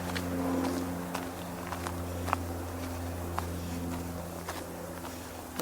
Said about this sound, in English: I also have a light aircraft buzzing over my head